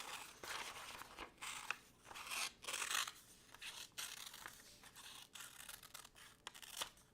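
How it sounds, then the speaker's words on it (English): Scissors rough-cut through a piece of felt for a gingerbread ornament, giving a run of soft, close crunching snips at an uneven rhythm with no talking. "I'm going to just cut this piece, kind of rough cut it like this"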